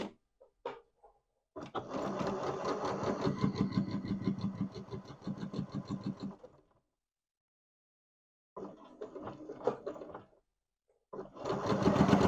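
A sewing machine runs in fast, steady stitching bursts, stops, then starts again in shorter runs.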